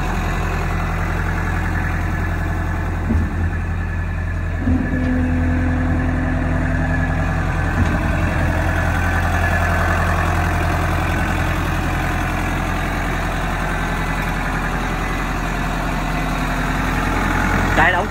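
A Morooka MST600 tracked dump truck with a 4D32 diesel engine idles steadily nearby, a loud constant low rumble with a strong even hum, while a person speaks briefly in the middle.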